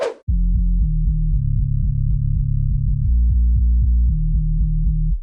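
Deep synthesized drum and bass sub bass notes pulse in a steady rhythmic pattern, low and heavy, playing alone without any voices.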